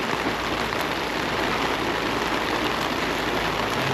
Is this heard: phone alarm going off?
no